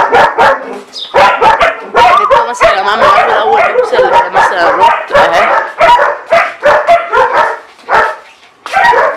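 Several dogs bark and yip loudly and continuously inside a kennel building, with overlapping close barks and occasional whimpers.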